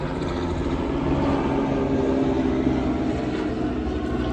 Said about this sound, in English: This damn helicopter don't want to let me speak.